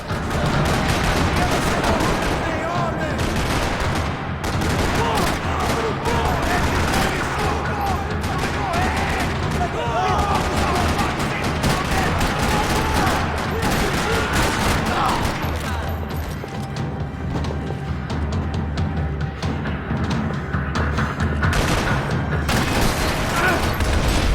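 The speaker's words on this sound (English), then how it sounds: "Another parking lot rattling with gunfire." Sustained gunfire rattles through a parking lot in the video game Max Payne 3, dense bursts and booms running loud and continuous, with voices mixed in.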